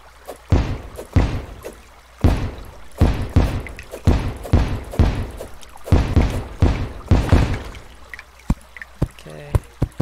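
Water being poured into a makeshift fishing hole in the video game Terraria, heard as a series of short splashy bursts in uneven clusters, clear and fairly close, thinning toward the end.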